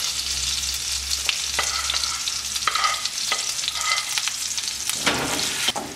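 The white part of green onion sautés in butter in a pan, giving a steady close sizzle and frying crackle broken by stirring scrapes and light utensil knocks.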